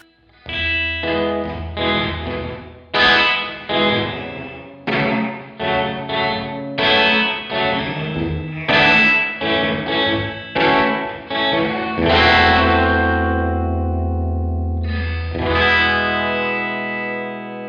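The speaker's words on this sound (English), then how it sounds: "that's sort of like spring reverby punchy sound" A guitar through the Arturia FX Collection 80s plate reverb preset plays a run of punchy strummed chords in a steady rhythm, each hit ringing with a springy sheen, and finishes on one long, held chord.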